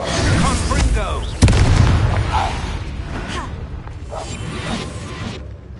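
A Confringo fire spell goes off in Hogwarts Legacy, a sudden booming blast with a whooshing burst, amid game sound effects and a voice speaking around it.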